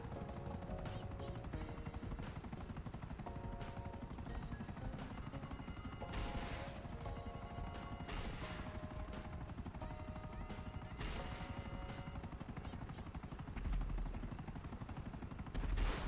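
Helicopters and missile fire in a video game, a dense, continuous wash of rotor drone and rapid gunfire bursts with louder thumps near the end, layered under game music tones and without speech.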